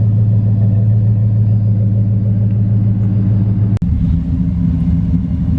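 A Ram truck idles with a deep, steady exhaust rumble, loud and close, holding an even low drone with a brief sharp click near the end.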